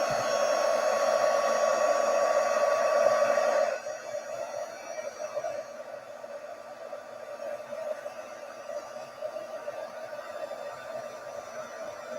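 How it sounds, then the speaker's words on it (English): Heat gun melting white embossing powder on a handmade Christmas card, a steady whooshing fan-and-air roar that runs loud and then drops to a lower, quieter blowing hum partway through, heard close with no talking. "Right, and my heat gun. So the magic of embossing."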